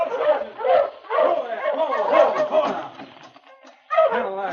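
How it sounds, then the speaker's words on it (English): An approaching sled dog team in the Yukon barks and yips in several lively bursts, with a brief lull before a final outburst, in an old radio drama. "Sergeant Preston finally saw a dog team coming toward him"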